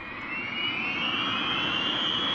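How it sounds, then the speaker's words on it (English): An American B-25 bomber's engines drone loudly and steadily, a high-pitched whine that rises slowly in pitch, with no voices. "The American B-25 strategic bomber."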